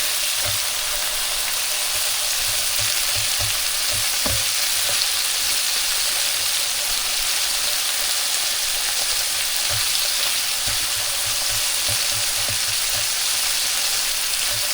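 Chicken fries in a pan with a constant broad sizzle, a few soft knocks and low thuds scattered through, close and steady throughout with no one speaking.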